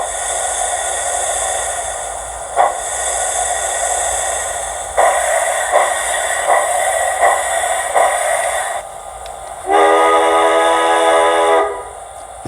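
An Athearn Genesis 2-8-2 steam locomotive model with DCC sound gives steady rhythmic chuffing over a hiss, then a long sustained multi-tone whistle near the end, loud and close with no talking.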